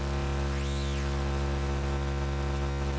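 A Schlappi Engineering Angle Grinder synth module adds a layer of constant hissing noise over a steady low hum, with a brief rising and falling sweep early on, droning and unbroken throughout.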